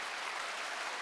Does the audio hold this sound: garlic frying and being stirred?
no